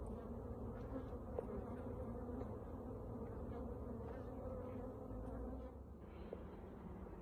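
Honey bees swarm around a hive at an out apiary in a steady, droning buzz. It is dense and close, with individual bees briefly passing nearer, and no voices over it.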